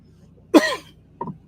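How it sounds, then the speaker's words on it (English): A man coughs once sharply and then gives a smaller second cough or throat clear, both close and fairly loud against a quiet room. "I'm kind of coughing a little bit"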